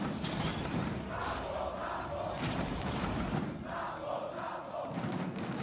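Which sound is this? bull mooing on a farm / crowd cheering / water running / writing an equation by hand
crowd cheering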